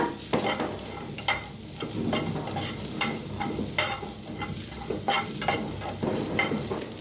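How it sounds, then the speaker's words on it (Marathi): Onion, garlic, ginger and coconut dry-roasting in a pan for katachi amti, a steady close sizzle broken by repeated scraping stir strokes at an uneven rhythm, with no voices. "कांदा खोबरं असं एकदम भाजून घेऊया आपण"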